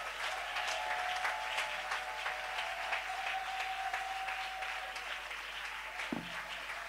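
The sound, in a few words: congregation applauding the Lord in church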